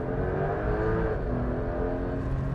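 Porsche 911 GTS T-Hybrid accelerating hard, a steady dense engine roar heard close and loud throughout, with no pauses and no talking.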